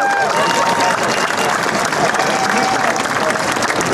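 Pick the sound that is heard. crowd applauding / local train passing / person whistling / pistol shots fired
crowd applauding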